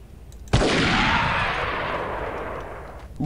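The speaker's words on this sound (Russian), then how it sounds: "сразу двоих как раз снял одним выстрелом." A single loud gunshot rings out in the military shooter game Delta Force: Task Force Dagger, with a sharp crack and a long rolling echo that slowly fades over about three seconds.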